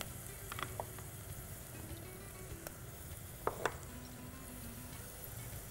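Ginger garlic paste frying with sautéed onions in a pan gives a steady, quiet sizzle, broken by a few soft clinks and stirring taps of a utensil.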